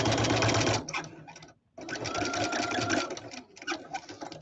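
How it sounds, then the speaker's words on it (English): Sewing machine running in short bursts, a fast whirring motor hum that stops briefly and restarts, close and fairly loud. "let me go ahead and make a bobbin"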